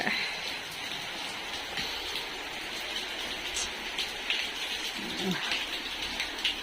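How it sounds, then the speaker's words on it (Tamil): Rain falls steadily at night around three in the morning, a continuous soft hiss of drops on surfaces heard from indoors, with a few faint knocks and low voice sounds in the background. "மூணு மணிக்கு சாதையாக மழை இருக்கு பாருங்க"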